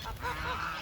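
Farm geese give a brief burst of overlapping nasal honks at close range, lasting under a second, with no talking.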